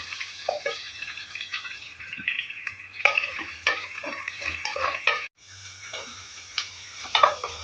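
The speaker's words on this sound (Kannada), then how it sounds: "ಈರುಳ್ಳಿ ಫ್ರೈ ಆಗಿದೆ." Chopped onions frying in oil with garlic in a pan for a Coorg-style raw jackfruit palya: a steady close sizzle broken by repeated scraping stirs of a spatula, with a brief pause near the end.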